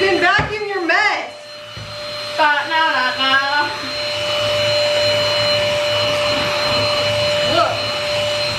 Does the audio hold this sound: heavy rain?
no